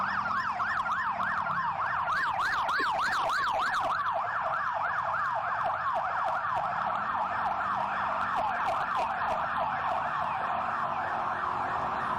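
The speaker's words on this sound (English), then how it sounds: "Now, the ambulance is coming down the road." An ambulance siren wails loudly and continuously as the vehicle comes down the road, its rapid rising and falling yelp turning into a slower two-tone sweep, with traffic rumbling underneath.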